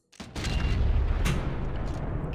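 A single heavy gunshot boom in Sniper Elite 4 cracks loudly and then rolls into a long, dense rumbling echo that fills the rest of the moment, with no talk.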